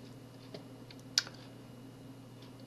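Keys tapped on a computer keyboard while entering a search, a handful of soft, irregular clicks with one sharper keystroke, close up and alone against a low steady hum.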